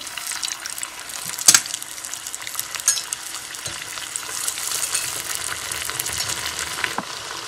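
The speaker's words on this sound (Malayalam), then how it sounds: "ഇതിപ്പം എണ്ണ ചൂടായിട്ടുണ്ട് അപ്പം ഇത് ജസ്റ്റ് ഒന്ന് ഫ്ലിപ്പ് ചെയ്ത് എണ്ണയിലേക്ക് ഇടുമ്പോൾ" Poricha pathiri, a Malabar flatbread, fries in hot oil, giving a steady close hiss and crackle with a couple of sharper splashes early on as the dough goes in.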